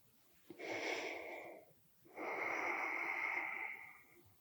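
Two long, deep breaths during a Hatha yoga class, one about a second long followed by a fuller one after a short pause, close and airy with no talking.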